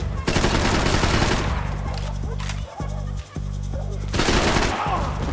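Dense automatic gunfire from the video game Max Payne 3 rattles almost continuously, loud and close, with rapid overlapping shots, two brief gaps midway, then a renewed heavy burst.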